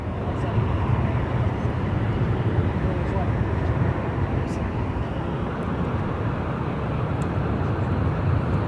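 A steady broadband roar of an approaching jet, Air Force 2, heard from near the final approach path at Phoenix Sky Harbor airport. It holds constant and fairly loud throughout, with no talk over it.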